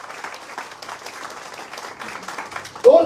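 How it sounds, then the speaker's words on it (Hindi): Audience at a gathering in Patna, Bihar, clapping in a brisk, steady patter, with a voice briefly breaking in loudly near the end. "मैं चाहता हूं जोरदार तालियां"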